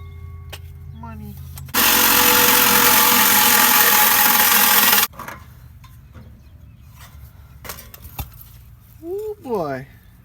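A power tool cuts through the exhaust pipe of a 6.0 Powerstroke diesel truck in one loud, harsh burst of about three seconds. Quieter clanks, metallic knocks and brief voices follow.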